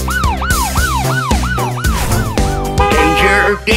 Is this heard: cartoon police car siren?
yes